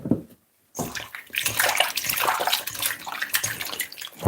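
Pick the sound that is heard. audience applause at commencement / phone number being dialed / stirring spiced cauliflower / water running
water running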